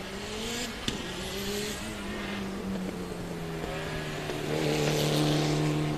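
A Subaru race car drives on the track at The Speed Ring 2019 time attack, its engine droning steadily and rising in pitch as it accelerates, with a brief sharp knock early on.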